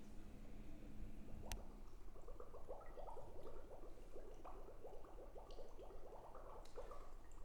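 A student uses circular breathing to blow air through a straw into a cup of water, making an unbroken run of even, close bubbling and gurgling that carries on steadily throughout.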